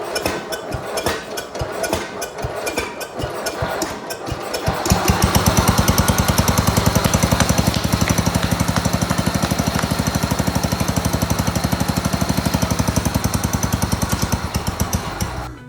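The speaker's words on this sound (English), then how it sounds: "So that's great news. The tractor's starting again." A 1965 John Deere 110 round fender garden tractor's small engine cranks with uneven bursts for several seconds, then catches and settles into a loud, steady rapid chugging run close by, with no talk.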